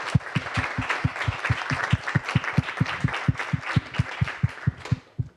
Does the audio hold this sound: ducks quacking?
no